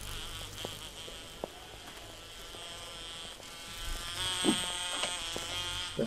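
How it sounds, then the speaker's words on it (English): A bee buzzes in the video game 7 Days To Die, a steady, faint droning hum that runs the whole way through, with scattered soft clicks and game noises rising toward the end and no voices. "That fucking bee is annoying as fuck."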